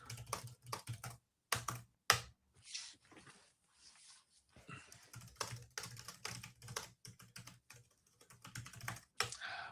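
Close computer keyboard typing in irregular bursts of quick key clicks, with pauses and some faint dog whimpering in the background.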